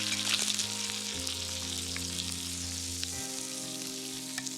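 Bacon frying in a pan with potatoes and kohlrabi nearby, a steady close sizzle with a continuous bright crackle and low hum underneath, no talking.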